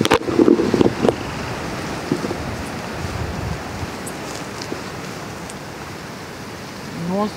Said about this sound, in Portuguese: o vento parece que vai arrancar o sujeito do lugar